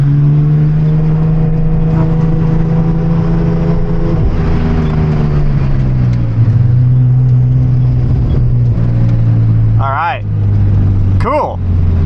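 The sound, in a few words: Porsche 911 Turbo engine running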